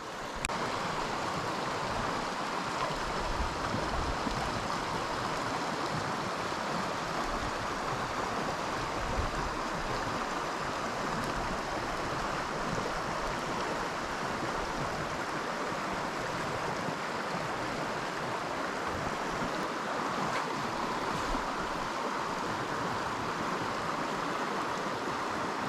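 Steady rushing water of a stream running a little high, a broad continuous wash with no clear pauses, heard alone without talk while fly fishing.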